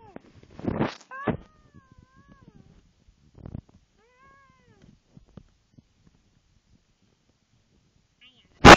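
A kitten meows several times up close in short, high, separate calls across a mostly quiet stretch, with a few soft thumps between and a sharp loud burst at the very end.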